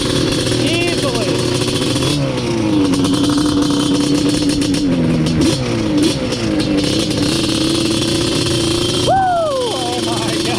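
Loud, close engine of a drag-built Yamaha Banshee quad accelerating hard during a ride, revving up in rising sweeps and shifting through gears, with excited voices over the whole run.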